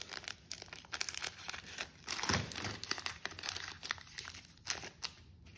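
Pokémon Sword and Shield booster pack wrappers being opened up close: continuous crinkling and crackling of foil plastic with tearing bursts and a few soft thunks, busy and steady throughout with no talk.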